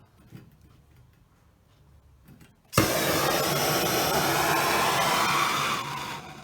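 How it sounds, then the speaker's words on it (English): A blow lamp roars into a steady, loud hissing flame after a couple of seconds of quiet clicking, heating heat shrink tubing onto a wiring loom terminal, holding constant before easing off at the end. "I just use a blow lamp"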